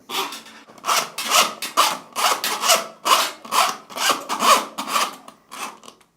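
A drain snake cable is pushed back into the canister of a drain-cleaning auger, making repeated rasping, scraping strokes in a steady rhythm, close and fairly loud, roughly ten pushes with brief gaps and no talking.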